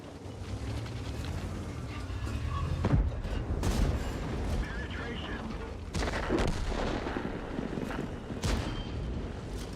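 Tank cannon fire in a tier X heavy tank video game: several heavy booming shots with sharp cracks over a constant engine and battle rumble, fairly loud and near, with brief talk mixed in.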